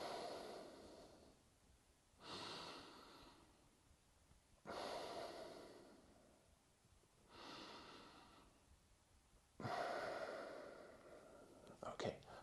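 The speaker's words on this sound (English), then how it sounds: "second breathing technique was in and out through the mouth in stage breath" A person breathes in and out through the mouth as a breathing technique, with four long, soft breaths spaced a couple of seconds apart, close and quiet.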